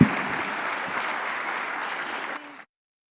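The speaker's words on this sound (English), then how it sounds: "a big round of applause to the 42nd President of the United States, Mr. Bill Clinton" A large audience applauds for former U.S. President Bill Clinton at a conference event, dense steady clapping filling the room and continuing evenly before tapering and cutting off.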